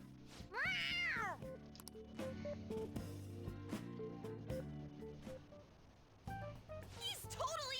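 A cat meows in the video game Persona 5 Royal: a loud, rising-then-falling meow near the start and a shorter one at the end, with voices talking and game music in between.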